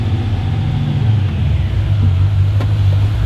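An LS13 project car runs in fourth gear while raised on a hoist, producing a loud, steady engine rumble and drivetrain hum close by, with no talking.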